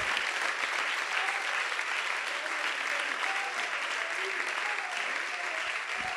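Sustained applause from a church congregation, a loud, continuous mass of clapping from many people, with voices calling out faintly underneath.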